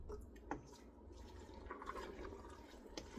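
Spaghetti sauce simmering on high heat in a pot, giving a soft, steady bubbling and gurgling with small irregular pops, fairly faint and close, with no talking.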